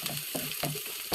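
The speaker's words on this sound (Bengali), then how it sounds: "লাল লাল করে ভালোভাবে ভেজে নিতে হবে।" Ginger, garlic, cinnamon and cardamom fry in hot oil in a kadai, giving a soft, steady sizzle broken by rhythmic stirring scrapes about three times a second, quiet and close.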